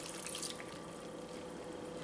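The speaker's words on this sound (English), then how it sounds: "first we are taking all the vegetables and adding water into it" Water streams steadily into a pot of vegetables including peas and tomato, a continuous close splashing and trickling hiss with no talk.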